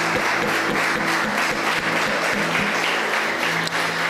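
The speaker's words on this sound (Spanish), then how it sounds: "denle un aplauso a Dios y se lo va a dar" A church congregation applauds together at a service, steady dense clapping filling the room from start to finish with no talk over it.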